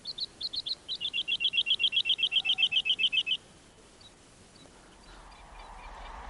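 A male bird sings a display song at night, a fast series of about twenty sharp, evenly spaced high chirps, loud and close, then stopping abruptly, leaving quiet background hiss.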